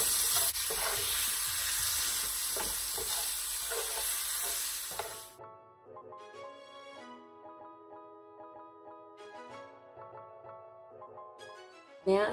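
Shrimp frying in grease in a pan, a dense loud sizzle for the first five seconds, then cutting away to quieter clinks and faint tonal sounds with the sizzle gone.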